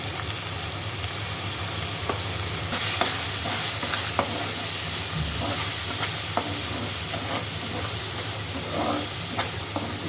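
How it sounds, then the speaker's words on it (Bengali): Turmeric, cumin and chili powder masala fries in a small amount of oil for a tengra fish curry with potato and brinjal. A steady, loud sizzle is broken by scattered scrapes of a stirring spoon, with no talking. "আমরা ভালো করে কষিয়ে নেব মশলাটা"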